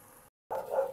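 A dog gives a short, faint bark or yip right after a brief silence, close by and alone, around feeding time.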